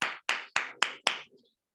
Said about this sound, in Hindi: तो एक बार शानदार तालियां हो सकती है